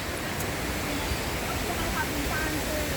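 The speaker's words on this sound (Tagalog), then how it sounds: "Sa baba, merong parang ilog." River flowing at the Hong Kong zoo, a steady broadband rush of water that stays even and close throughout, with faint bird chirps above it.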